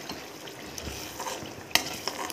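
Paneer mixed-vegetable masala with turmeric, salt and kasuri methi fries in a pan: a quiet, continuous sizzle sits under soft stirring scrapes, with one sharper clink of the spoon near the end. No one speaks.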